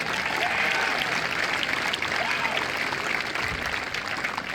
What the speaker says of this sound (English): Let's give Pam a round of applause